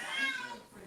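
A house cat meows once, close and fairly loud, in a drawn-out cry that fades quickly at the end.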